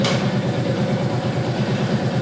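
A motorcycle engine idles with a steady, rumbling low throb as the rider shuffles it into a tight parking space, loud and close with no voices.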